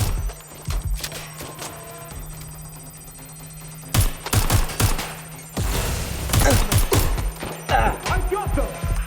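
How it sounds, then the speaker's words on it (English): Gunfire from the video game Watch Dogs: Legion, with sharp bursts of shots clustered around the middle and end, mixed with game noise and talk. "Shots fired! Shots fired! Taking fire!"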